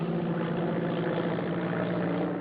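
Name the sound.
airplane engine in flight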